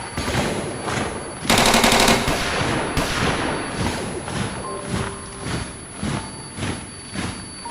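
Soldiers' gunfire rattles in a loud, close burst of rapid machine-gun shots, followed by a steady run of repeated heavy bangs at a regular pace.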